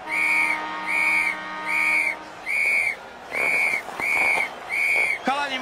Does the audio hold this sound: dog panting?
no